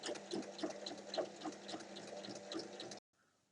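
Sewing machine stitching around the lining of a small fabric pouch, a steady close whirring hum with rhythmic needle throbs running continuously for about three seconds, then stopping abruptly.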